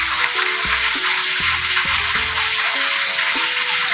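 Lote fish sizzle steadily in hot oil, a loud continuous frying hiss with small spits and pops throughout, while a few soft kitchen clinks sound underneath.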